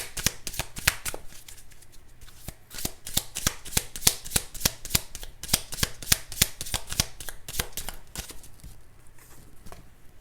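Tarot cards are shuffled and handled in a rapid series of crisp riffling flicks and snaps, close and fairly loud, continuing for several seconds with no talking.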